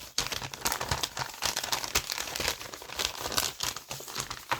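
Advent calendar packaging being torn and crumpled open up close, with dense, steady crinkling and ripping of paper and cardboard that runs through the whole stretch without pause.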